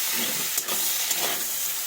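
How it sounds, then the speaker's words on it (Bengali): Potatoes and soybean chunks fry in a pan, giving a brief, dense, close sizzle broken by a couple of scraping stirs. "আলুর সঙ্গে সয়াবিনটাও সুন্দর করে ভেজে নেব"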